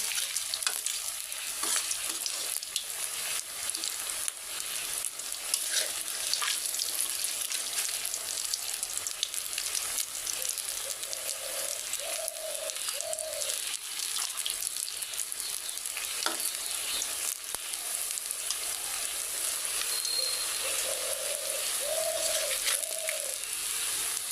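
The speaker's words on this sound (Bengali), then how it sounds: "আমি এখন বড়া ভাজা শুরু করে দিচ্ছি" Fritters of soaked, ground masoor lentils (bora) fry in a pan of oil, giving a dense, continuous close-up sizzle with faint crackles that stays even throughout, with no talk.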